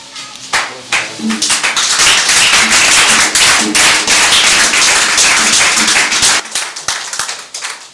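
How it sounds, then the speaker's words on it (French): A church congregation bursts into loud, dense applause that swells and holds for several seconds before thinning into scattered claps, with a few voices mixed in. "On a applaudi le Seigneur"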